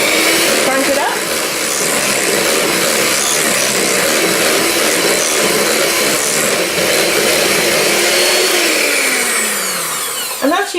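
An electric whisk beats no-bake lime cheesecake filling, a loud continuous whirring that runs close and unbroken for the whole stretch, with a brief rising whine at the end.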